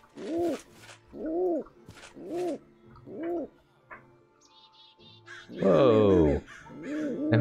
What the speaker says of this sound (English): We got pigeons.